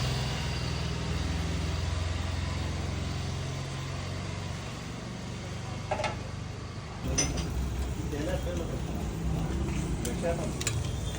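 A bread omelette frying on a hot street-food griddle, with a continuous sizzle over a low traffic-like rumble, plus a few clinks of a spatula against the metal toward the end.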